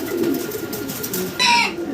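Tiger-coloured German Beauty Homer pigeons cooing, several low rolling coos close by, with a brief brighter sound near the end.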